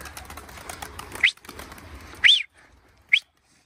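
Pigeons at a coop at dusk give a few short, separate calls with soft rustling between them, close by and otherwise quiet, with no talk.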